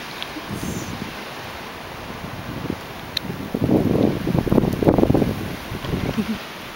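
Strong wind blowing outdoors the morning after a snowstorm, a steady broadband rush that swells into louder gusts midway through, with no talking.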